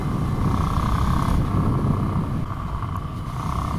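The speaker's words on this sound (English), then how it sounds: "It's got a very, very torquey, low revving engine. It just rumbles along." A Ducati Scrambler motorcycle's torquey, low-revving engine rumbles steadily and loudly at close range, a continuous low drone with a constant hum, no voices over it.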